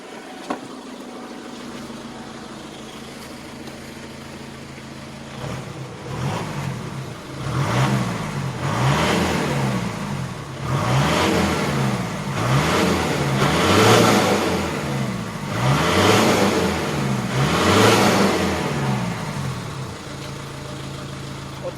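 A 17-year-old Kia Carnival's engine idles steadily, then revs repeatedly in a regular rise-and-fall pattern for an exhaust emissions check, loud and close with no talk.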